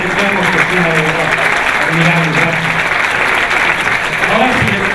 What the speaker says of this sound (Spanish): Un fuerte aplauso, por favor, para que seamos Cristina de verdad.